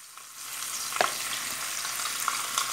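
Pork cracklings fry in oil for farofa de torresmo, a steady dense sizzle with a few sharper pops and crackles near the middle, close and continuous, no voices.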